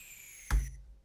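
A sweep effect in an EDM production: the bright tail of a noise sweep cuts off into a single heavy, booming low impact that decays within about half a second.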